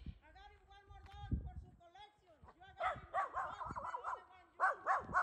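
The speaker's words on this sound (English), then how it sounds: "Right now, that dog is loose and illegal." A loose dog barks and yips in several loud, close bursts, mostly in the second half, while a person speaks over the start.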